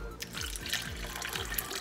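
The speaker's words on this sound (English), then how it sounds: "gonna add a cup of water here now" A cup of water pours into a pot of cooking cornmeal for Cuban-style harina de maiz, a close, continuous splashing trickle with faint stirring sounds underneath.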